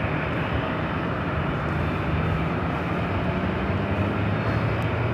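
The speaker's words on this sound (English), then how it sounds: "Next arrival is Delta Connection SkyWest flight 3634 coming from Albuquerque in the E175." A Delta Connection SkyWest Embraer E175 jet arriving at Los Angeles International Airport, its engines giving a steady, loud, broadband roar that holds throughout without a break.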